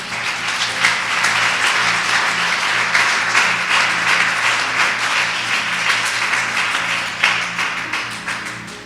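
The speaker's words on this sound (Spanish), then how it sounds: "Dale un fuerte aplauso al Señor," A church congregation breaks into loud, sustained applause, many hands clapping together in a dense roar with a few sharper claps standing out, no voices on top.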